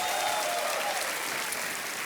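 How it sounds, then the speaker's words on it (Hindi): A studio audience on the TV quiz show Kaun Banega Crorepati bursts into loud, sustained applause, a dense and even roar of clapping that carries on without a break. "तालियां बजती रहे देवियों और सज्जनों।"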